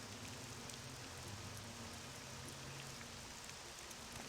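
Steady hiss of rain falling in Morrowind, a soft, continuous wash of drops on surfaces at low volume with no voices.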